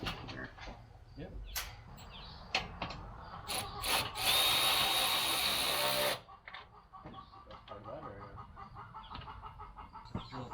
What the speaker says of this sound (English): Drill 3 more holes.